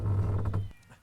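A cat meows once in the potion-shelving puzzle game Shelve The Potions, a short, loud mew that trails off into near silence.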